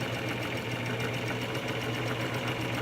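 A sewing machine stitches in the ditch along a fabric seam, running steadily and close with a fast, even mechanical hum and no pauses.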